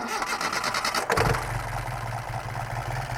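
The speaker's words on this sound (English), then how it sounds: "We're going to go ahead and start it up so you can hear it run." A 1971 Datsun 510 wagon with a 2.2 L LZ motor and reworked carburetors cranks briefly and catches about a second in, then settles into a steady, close, rumbling idle with no talk.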